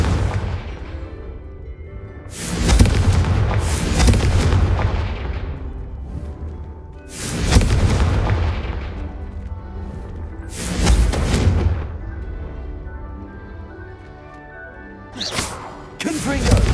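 Blasting spell explosions burst out in Hogwarts Legacy, several loud booming impacts spaced a few seconds apart, each followed by a rumbling decay, with a quicker pop near the end.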